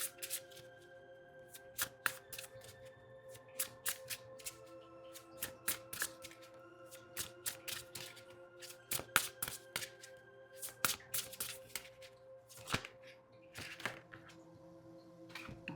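Tarot cards shuffled and handled, crisp riffling bursts and sharp snaps coming in irregular clusters, close and fairly quiet over a faint steady hum, with no talking.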